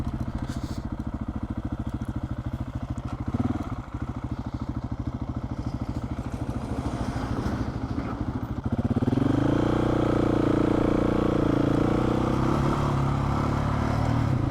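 An approaching vehicle comes along a dusty outback dirt road, heard from a parked motorcycle that idles close with a steady thumping rhythm until a louder rushing roar builds and sweeps past.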